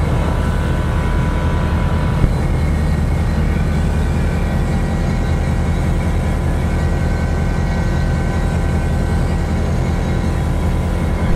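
Steady, loud engine drone fills a Pipistrel Sinus motorglider cabin during an 80-knot cruise climb, a constant propeller and motor hum without pause or voices.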